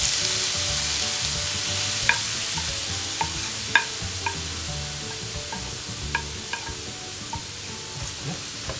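Ground carrot frying in ghee makes a constant close sizzle, with scattered sharp taps and scrapes as it is stirred in the pan. No one speaks.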